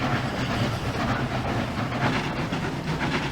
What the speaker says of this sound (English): The purpose of the strength test is to see how much this locomotive can handle going up the hill without stalling